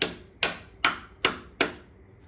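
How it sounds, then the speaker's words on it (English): Four sharp hammer blows on a metal part while fitting an oil pump on a 1991 5.9 Cummins 12-valve turbo diesel, evenly spaced about half a second apart, each ringing briefly before the next strike. "Hit it with the hammer."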